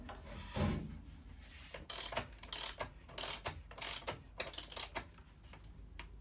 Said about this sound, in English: so I'm going to carry on screwing that in